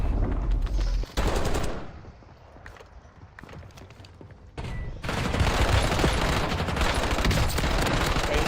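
Call of Duty gunfire: a rapid automatic burst up front, a lull with scattered shots, then a sustained loud stretch of heavy firing and chaotic battle noise.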